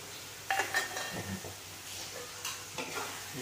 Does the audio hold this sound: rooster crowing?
no